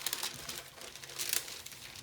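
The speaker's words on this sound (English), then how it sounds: "Cover it back up with parchment paper" Parchment paper crinkles and rustles close up as it is laid over a heat-press transfer, with quiet, uneven crackles that briefly get louder partway through.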